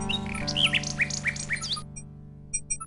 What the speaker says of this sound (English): A nightingale perches on a high branch of the tree. She sings the most beautiful song Alexander has ever heard.